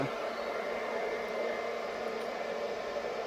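The cooling fan of a Segway Cube-1000 portable power station runs with a steady, even whir, close and moderately quiet, with no break or change.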